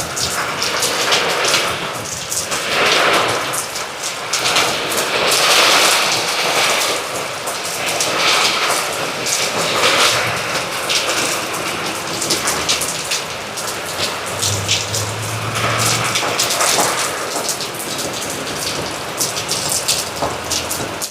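Heavy outdoor rain pours down steadily with dense drumming on surfaces and gusts of wind swelling and fading, loud and continuous with no voices.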